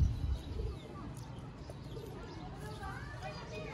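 Pigeons, Sialkoti fancy breed kept in a loft, coo softly in the background with faint chirps, partly under a voice talking nearby.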